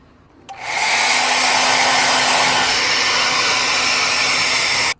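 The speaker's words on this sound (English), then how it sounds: "I'm going to give it a hairdryer. We'll give it a hit, see if I can dry this quicker" A hair dryer blowing on a wet 2024 Toyota Tacoma car seat roars steadily at close range for about four seconds, a constant loud airy whoosh that starts abruptly and cuts off at the end.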